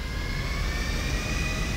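A jet aircraft's engine running up in GTA V on PC gives a steady, loud turbine whine with a high whistling tone above a deep rumbling roar, sustained and unbroken, with no voices.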